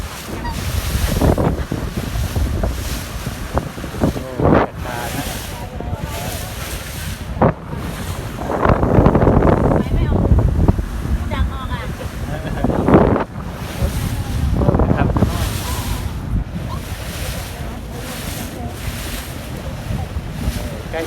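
A speedboat crossing open sea toward Ocean Sky, its loud engine roar mixed with slapping waves and heavy wind buffeting the microphone, surging in repeated bursts as the hull hits the water.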